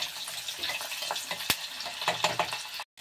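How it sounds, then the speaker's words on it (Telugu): Sliced onions frying in oil in a pan for a meal maker biryani give a steady soft sizzle and crackle with a sharp spoon tap midway, then cut to sudden silence near the end. "ఆనియన్ కొద్దిగా కలర్ వచ్చే వరకు ఫ్రై చేసుకోవాలి."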